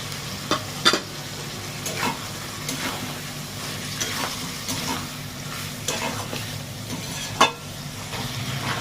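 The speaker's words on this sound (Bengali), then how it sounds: "চিংড়ি মাছটা আমি ঢেলে দিচ্ছি" Prawns tipped into a pan of simmering potato and pointed gourd curry, a steady sizzle broken by a few sharp clatters and splashes close by, with no talking.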